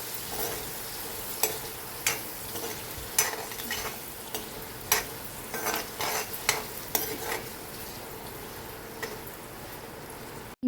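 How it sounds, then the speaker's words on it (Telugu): Paneer pieces frying in butter in a pan, a steady sizzle broken by repeated sharp clinks and scrapes of a spoon stirring, close and without talk. "ఇప్పుడు పన్నీర్ ముక్కలు వేసుకొని వేయించుకోవాలి."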